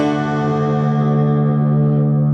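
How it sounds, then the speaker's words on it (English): Electric guitar played through a boost pedal for heavy distortion gives a loud, thick sustained chord that rings steadily and fades slightly at the top, with no talk. "To get loads of distortion."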